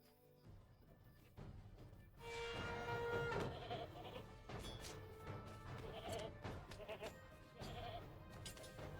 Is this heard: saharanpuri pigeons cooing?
no